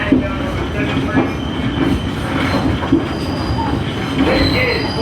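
A New York subway number 7 train rolling along the line, with steady rumbling, rhythmic wheel clatter and brief metallic squeals throughout, heard from close by.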